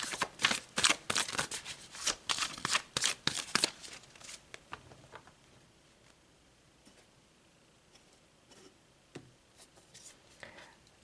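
Tarot cards are shuffled with quick riffling and slapping bursts for about four seconds. Faint, sparse handling sounds follow as cards are pulled, with no talking.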